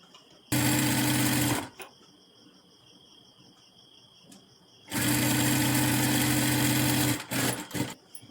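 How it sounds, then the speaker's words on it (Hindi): An electric sewing machine stitches the fitting seam of a princess-cut blouse in two loud, steady bursts, the first about a second long and the second about two seconds, separated by quiet pauses with faint handling sounds. "इस पर हमें सिलाई लगा देना है"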